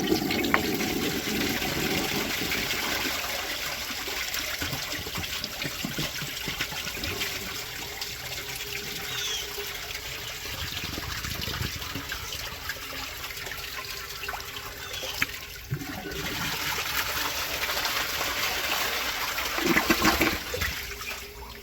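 A 1957 Standard Cadet toilet flushing, a steady close rush and gurgle of water running for about twenty seconds, ending with trickling as the tank refills.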